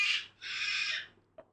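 An outdoor bird in Australia gives two harsh, raspy calls, a short one then a longer drawn-out one, fairly close, followed by faint clicks.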